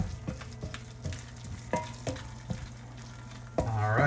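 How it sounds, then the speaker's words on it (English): Peas get stirred into risotto in a pan: a quiet sizzle runs under a series of spoon scrapes and taps, ending in a louder, denser stir near the end, close up and without talk. "Stir it all in."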